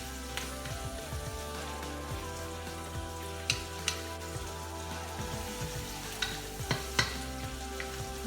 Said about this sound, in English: So you just saute those 2. You just want to do that to get the garlic a little brown.